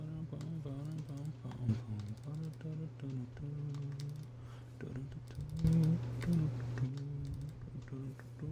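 Loud clicking of a computer keyboard while gaming, a busy run of keystrokes sitting under game music and sound that continue throughout.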